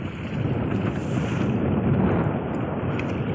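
Strong wind roars steadily into the microphone at sea at night on a fishing boat, a dense rumbling rush mixed with the wash of water, with no voices.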